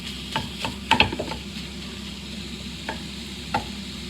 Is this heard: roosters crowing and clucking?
no